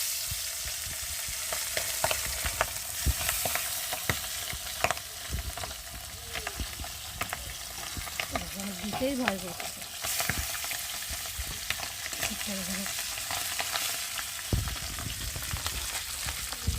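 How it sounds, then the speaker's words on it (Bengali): Three pieces of pabda fish frying in hot oil give a steady, dense sizzle with scattered sharp crackles and pops throughout, close by. A voice speaks briefly over it. "তিন পিস দিয়ে ভেজে নেবো দেখো কীরকম ফাটে"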